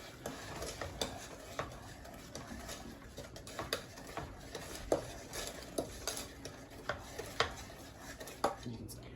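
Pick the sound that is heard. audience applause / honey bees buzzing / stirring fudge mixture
stirring fudge mixture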